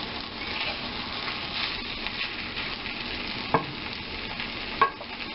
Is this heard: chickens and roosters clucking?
no